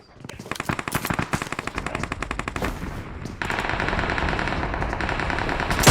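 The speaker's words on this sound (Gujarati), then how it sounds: "ફટાકડા માં શું તા ફોડે આ લોકો દિવાળી આવી નહીં ને આવ્યા" Rapid strings of Diwali firecrackers crackle and pop in fast bursts, then merge into a dense, continuous rattling roar that grows louder at the end.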